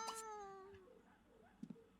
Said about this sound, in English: So cute when she meows.